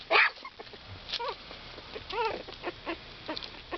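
Havanese puppies whimper and yip softly in a few short high squeaks and whines, close by and fairly quiet, with a person's voice faint in the background.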